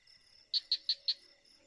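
Four quick, evenly spaced cricket chirps, clear and close, over a faint steady insect hum in a quiet night setting.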